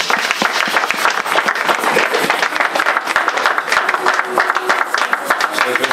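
A church congregation applauding at an Easter service, a dense, steady wash of many hands clapping that fills the space, with voices mixed in beneath.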